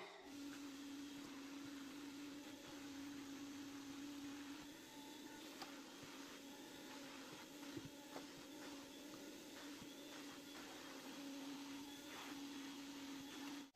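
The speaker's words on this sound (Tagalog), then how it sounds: "Tapos na ako mag-vacuum, no?" A household vacuum cleaner runs continuously in a room, a faint, steady motor whine and airy rush with no talking.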